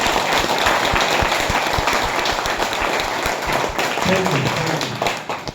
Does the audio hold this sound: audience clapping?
yes